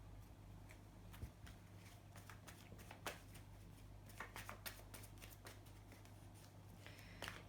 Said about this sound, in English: One more shuffle on that.